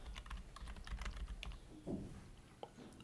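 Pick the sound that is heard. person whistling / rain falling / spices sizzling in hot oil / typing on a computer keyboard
typing on a computer keyboard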